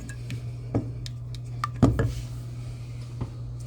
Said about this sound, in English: And we're just going to give this nice little quick stir.